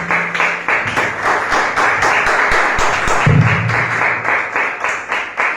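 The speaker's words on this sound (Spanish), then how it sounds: "Un aplauso a Dios" A church congregation claps rhythmically in unison, a strong steady beat of hands filling the room, with no talk over it.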